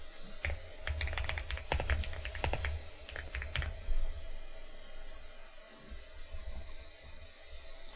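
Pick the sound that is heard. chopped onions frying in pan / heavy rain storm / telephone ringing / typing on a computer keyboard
typing on a computer keyboard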